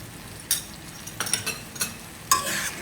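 Canned fish being stir-fried gently in curry paste, a soft sizzle under several distinct scrapes and clinks of a utensil against the pan spaced across a few seconds.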